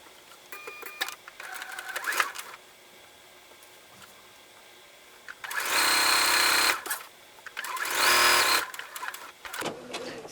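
A sewing machine stitches fabric strips together for a quilt block in bursts, with two long, loud runs of rapid needle clatter separated by quieter handling noises and pauses.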